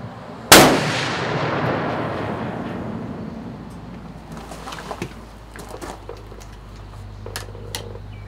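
A single loud muzzleloader rifle shot fires close by, a sharp blast followed by a long rumbling decay, with faint ticks and small knocks in the quiet afterward.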